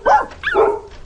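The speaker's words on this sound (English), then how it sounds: "Oh, shut up, you foul dogs!" Dogs barking in a radio audio drama, two quick close-up barks with a whiny, yelping edge, loud and alone against a quiet background.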